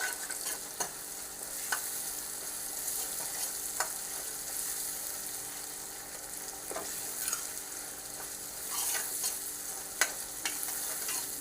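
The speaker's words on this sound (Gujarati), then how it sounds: "આ રીતે તેલની અંદર સાંતળી લઈશું થોડી વાર" Chopped garlic and ginger sauté in hot oil while making jeera rice and panchratna dal, giving a steady, close sizzle with occasional sharp clicks of stirring.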